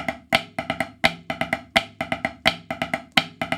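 Swiss flam drags on a snare drum, each right-handed flam followed by a double right and a left, repeated in a steady, crisp pattern of close, loud strokes with no talking.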